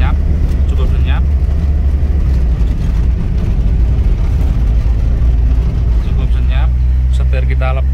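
A car driving over a rough, bumpy stretch of road, a loud steady low engine and road rumble inside the cabin with occasional knocks, while someone talks over it.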